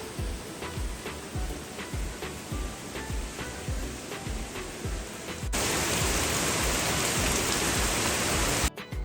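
Heavy rain falls in a Kerala yard as water flows in from the road, a dense hiss with soft rhythmic thuds that swells into a louder, fuller downpour roar halfway through.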